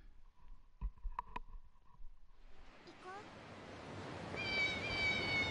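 Cats meowing in the video game Yakuza Kiwami: a few quiet knocks, then rising ambient noise with a faint mewing tone and a clearer sustained cat cry near the end.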